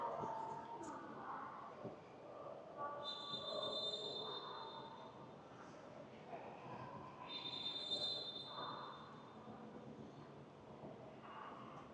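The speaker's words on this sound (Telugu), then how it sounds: "అక్కడ మనకు ఎదురుగా బుల్లెట్ ట్రైన్ ఉంది." Inside a bullet train station in China, a faint, distant hum of rail traffic carries on with occasional high whining tones and soft murmurs from people nearby.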